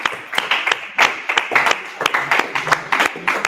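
A small audience at a course presentation claps as a team walks up to the stage, a quick scatter of sharp handclaps that stays moderately loud throughout.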